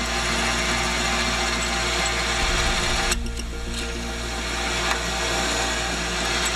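A machine drill bores through a metal fire piston part, a steady loud whirring grind that runs continuously, with a brief shift in pitch partway through.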